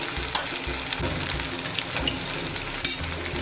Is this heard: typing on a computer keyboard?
no